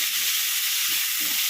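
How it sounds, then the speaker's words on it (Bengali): Chopped onion fries lightly in a pan for a white chicken stew, giving a bright, steady sizzle with a few dull bumps of stirring and no talking. "এবার দেব কুচনো পেঁয়াজ। ভাজা ভাজা কিন্তু খুব বেশি হবে না,"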